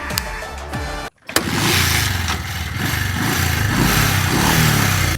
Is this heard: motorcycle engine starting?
yes